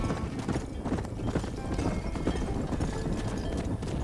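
Horse hooves clip-clop steadily on a path in the Red Dead Redemption video game, a continuous dense rhythm of close, moderately loud hoofbeats with a faint horse snort mixed in.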